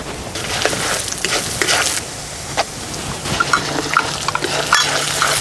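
Peanuts, cinnamon and cloves frying in about two spoons of hot oil for stuffed brinjal fry, a close crackling sizzle with sharp spitting pops and stirring scrapes throughout.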